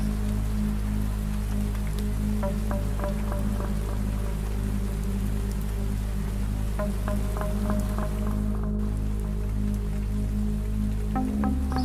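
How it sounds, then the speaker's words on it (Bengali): Steady rain falls continuously over a low background hum, with faint scattered drip-like ticks throughout. "আস্তে আস্তে যেন বৃষ্টিটা কমে আসছে।"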